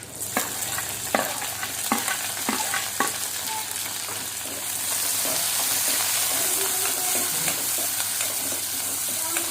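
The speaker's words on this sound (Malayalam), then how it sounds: "അത് കഴിയുമ്പോൾ നമുക്ക് അതിലേക്ക് ഉള്ളി കൊടുക്കാം" Onions fry in a pan for prawn roast, starting with sharp spoon taps and scrapes over a low sizzle, then a louder steady hiss takes over.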